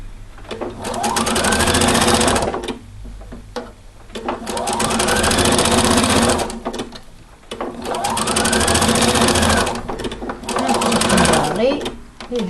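A sewing machine runs in three long, loud bursts of rapid stitching as a dress is assembled, with short pauses between runs where a voice speaks briefly.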